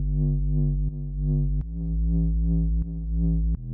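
A recreated wobbly synth bass modelled on a track plays sustained deep buzzy notes, moderately loud, changing pitch with a few brief clicks between phrases and no voices.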